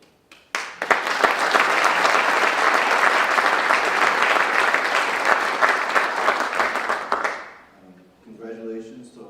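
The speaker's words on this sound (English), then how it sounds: "Give you a round of applause." Loud, sustained applause from an audience at a Hall of Fame induction ceremony, with dense continuous clapping that builds quickly, holds steady, then fades as voices come in at the end.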